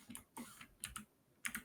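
Bursts of computer keyboard typing while entering a Windows registry path, quick clusters of close, crisp key clicks separated by short pauses, faint overall with no talk.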